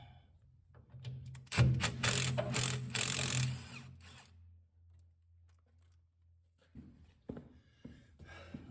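Ratchet working the last bolt on a Bobcat 743 skid-steer during a body teardown, a close burst of rapid mechanical clicking and grinding for a couple of seconds, then a low hum and a few scattered clicks afterward.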